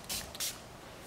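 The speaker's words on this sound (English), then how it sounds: "you can come back with a little bit of light spray" Light spray from a spray bottle used while installing screen protectors in a C8 Corvette: two short, close hissing bursts in quick succession, with no talk over them.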